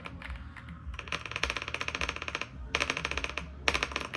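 An Alua F75 mechanical keyboard is typed on in quick bursts of close, crisp keystrokes, with brief pauses between runs and no speech.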